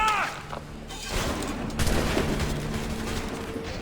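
A musket volley in a video game battle crackles as a dense fusillade of overlapping shots, with booming reports and a rolling echo under a busy, noisy mix.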